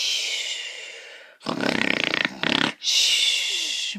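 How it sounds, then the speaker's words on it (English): A dragon princess snoring: two rough, rapidly pulsing snore bursts, the second shorter, set between stretches of soft hiss with no talking. "Marge snored on."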